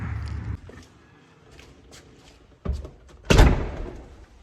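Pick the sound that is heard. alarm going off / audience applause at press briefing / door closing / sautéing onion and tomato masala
door closing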